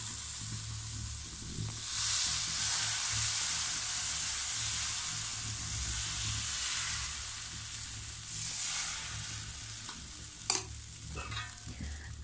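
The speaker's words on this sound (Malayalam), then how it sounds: "അങ്ങനെ പിന്നെ അപ്പം ചുട്ടുകൊണ്ടേ ഇരിക്കുകയാണ്." Appam cooking in a pan on a stove, a steady close sizzle and hiss that swells and fades over several seconds, ending with a few sharp clinks of a utensil, no speech.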